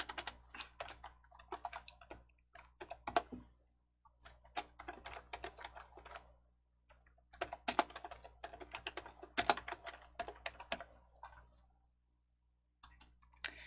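Keys on a computer keyboard are typed in quick bursts separated by short pauses, close and fairly quiet, with clicking strokes and no talking.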